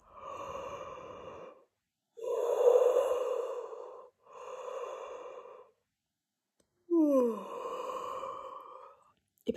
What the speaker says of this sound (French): Et parfois le bâillement est contagieux.